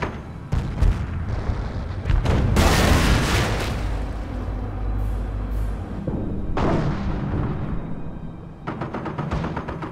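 A 57 mm anti-tank gun fires heavy booming shots amid explosions and scattered gunfire in a Company of Heroes Normandy battle at Montebourg, with loud blasts and rumbling between shots.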